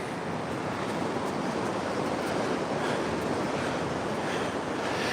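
Surf breaks and washes steadily along the Oregon coast at Moolack Beach, a broad continuous roar of ocean waves with wind buffeting the microphone throughout, no voices.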